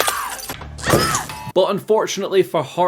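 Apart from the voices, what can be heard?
glass shattering in a slasher film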